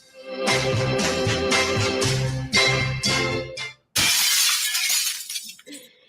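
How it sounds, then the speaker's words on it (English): A music-like sequence of chimes cuts off, then glass shatters loudly with a crash and scattering, tinkling debris trailing away. "That Shattering Glass says we're on Rainier Avenue Radio"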